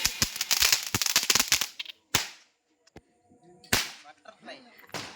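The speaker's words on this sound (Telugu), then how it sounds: "మా వారైతే బాంబులు వెలుస్తున్నా" Diwali firecrackers go off nearby: a fast loud string of cracking bangs, then a few separate sharp blasts with short quiet gaps between them.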